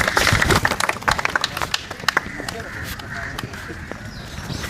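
A group of people applauds a student, a burst of loud, dense clapping at the start that thins into scattered claps and fades under ongoing room noise, with speech mixed in.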